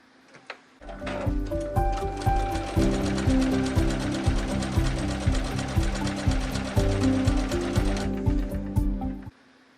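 A computerized sewing machine stitches with a twin needle, starting after a moment of quiet and running as a loud, fast, even mechanical clatter for about eight seconds before stopping abruptly.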